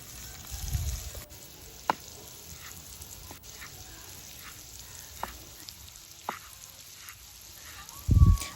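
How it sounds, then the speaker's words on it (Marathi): Soft, steady sizzle of batter-coated mandeli fish frying in hot oil, with a few sharp clicks and taps and a brief low thump near the end. "तयार केलेल्या पिठामध्ये मांदेली फ्राय करून घेऊया"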